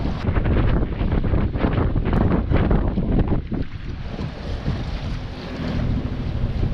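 Strong wind blasting across the microphone in a loud, steady roar with gusty surges aboard a boat on the Guadiana River, alongside faint water sounds.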